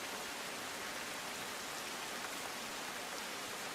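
Heavy rain pours down in Patan district, Gujarat, a dense, even hiss of falling water that holds steady throughout without any voices.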